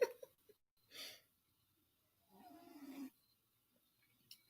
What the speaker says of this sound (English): Can y'all hear him snoring?